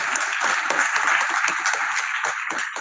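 A webinar audience gives a fireside-chat speaker a dense, steady round of clapping that holds loud throughout, with a faint murmur of voices underneath.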